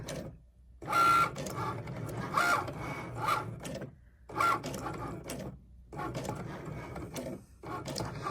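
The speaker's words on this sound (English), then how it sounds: "what the machine is doing is it is actually drawing out the snowman for me. That is a Cricut pen." A Cricut Maker cutting machine drawing a snowman with a Cricut pen makes mechanical whirring and buzzing in repeated bursts of about a second or two, separated by brief quiet pauses, with no voices.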